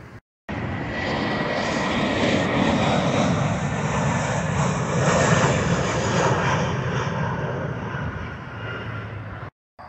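A fixed-wing airplane flies low overhead near Flint Airport, its engine roar loud and steady for nearly the whole stretch, swelling slightly at the middle before easing off, with no talking.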